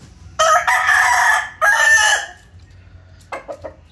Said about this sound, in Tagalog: Ang laking manok nun.